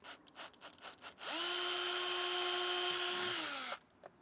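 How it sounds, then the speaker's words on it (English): A power drill with a 1/8 inch bit whirs steadily for a couple of seconds, drilling a small hole in a 2016 Ram, preceded by light handling clicks, then winds down and stops. "I'm just going to mark that spot so I can drill that out with our 1/8 inch drill bit"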